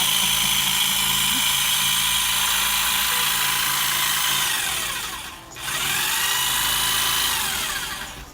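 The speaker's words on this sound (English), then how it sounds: "We get to use power tools again." A jigsaw cuts into a Halloween pumpkin, its buzzing motor whining loudly and continuously, dipping briefly mid-cut before resuming at full strength.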